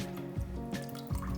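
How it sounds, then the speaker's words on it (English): Cashew milk drips through a strainer in a steady, close pattern of soft liquid drops, quiet and unbroken by talk. "I let it drip for a little bit as it has been doing"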